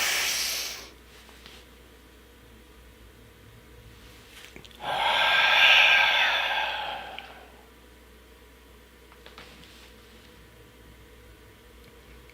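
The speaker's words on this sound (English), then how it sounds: "Anchor it with the breath." Slow, deep breathing in a quiet room: a short airy breath at the start, then a long, loud, hissing exhale in the middle, followed by near silence with faint breath noises.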